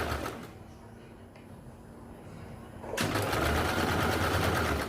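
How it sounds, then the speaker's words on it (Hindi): A sewing machine stitches piping along a fabric edge. It starts with a short burst, drops to a quiet hum, then runs again at a steady, close, continuous whir for the last two seconds. "किनारे पे सिलाई लगाएंगे"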